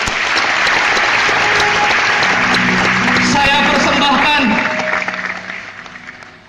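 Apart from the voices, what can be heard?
applause from audience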